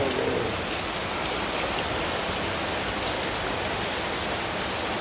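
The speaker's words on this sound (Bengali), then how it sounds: "এবার বৃষ্টি কমছে" Rain falls steadily onto surfaces as a close, even, wash of hiss and patter with no pauses and no voices.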